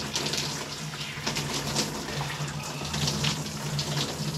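Warm water from a shower runs in a steady, unbroken hiss and splash, fairly close and alone without any talking.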